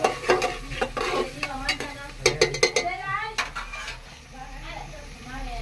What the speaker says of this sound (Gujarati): નાખી બરોબર ફ્રાય કરી દેવાની, મિક્સ કરી દેવાની.